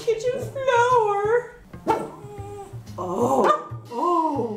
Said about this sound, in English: he's just a little dog on a kitchen floor